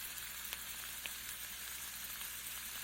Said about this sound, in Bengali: এবার আমি এক চামচ মতো ঘি দিয়ে পরোটাটাকে আরও কিছুক্ষণের জন্য লাল লাল করে ভেজে নেবো